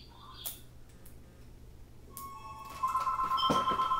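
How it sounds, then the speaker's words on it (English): Telephone ring in an N64 Jeopardy! game: a faint, thin electronic tone sounds briefly and then holds steady over quiet background ticking and a couple of soft clicks, with no talk. "What is the sound of my telephone ringing?"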